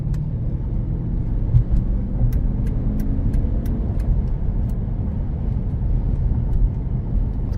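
Steady low engine rumble and road noise from inside a 2007 Mercedes-Benz S550 accelerating while driving, moderately loud and even throughout with no talk.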